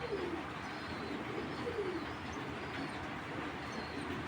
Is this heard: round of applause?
no